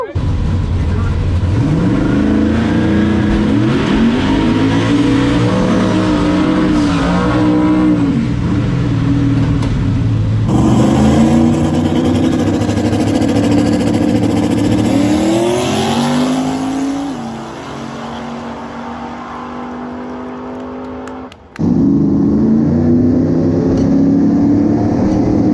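Cars race in a street callout, engines revving hard and climbing through gears with loud, close roars, a shift in pitch as one pulls away, then a sudden cut and another engine surging back in.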